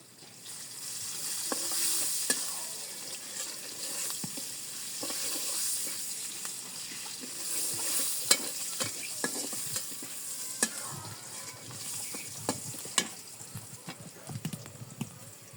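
Onions frying in a pan in a village kitchen, a continuous sizzle under repeated scraping and clacking strokes of a stirring utensil, close and fairly loud, with no voices.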